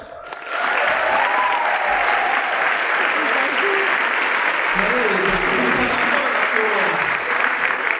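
Thunderous audience applause welcomes a performer onto the evening stage at the 2023 Kirchentag church festival, a dense, loud, continuous roar of clapping that starts abruptly and holds steady, with voices mixed in.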